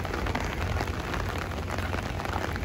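Heavy rain pours down in Singapore in a dense, loud, unbroken roar that stays constant throughout, with no talking.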